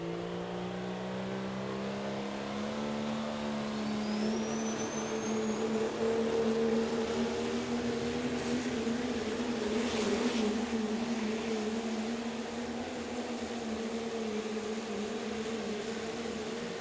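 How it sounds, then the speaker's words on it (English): A Pro Stock diesel truck at a truck pull holds a loud, sustained engine drone with a steady low tone that rises slightly in pitch as it pulls, heard near and alone for the whole stretch. "as we continue on here with our Pro Stock diesel trucks"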